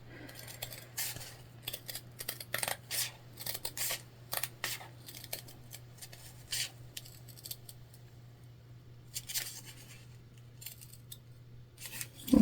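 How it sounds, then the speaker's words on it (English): Scissors snipping Y cuts into fabric up to the corner stitches of a sewn crossbody bag: a quiet series of short, crisp cuts coming in irregular clusters over a steady low hum. "you're making Y cuts here at the end, so you are cutting up to those stitches in the corner, but not through"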